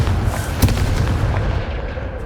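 Confringo blast spell cast in Hogwarts Legacy, a loud booming burst like a cannon shot near the start, followed by dense rumbling low-end crackle and fading explosive texture.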